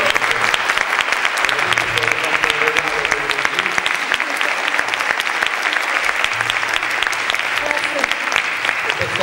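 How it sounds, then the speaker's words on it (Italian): Enthusiastic audience applause for two singers after a concert appearance, dense and sustained clapping that stays loud and even throughout. "Io farei un applauso enorme a queste due artiste."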